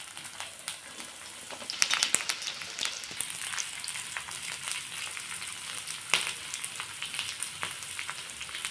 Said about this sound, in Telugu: ఒక కడాయి పెట్టుకొని ఆయిల్ పోసుకోవాలి. దాంట్లో కొద్దిగా ఫ్రై చేయాలండి పీసెస్.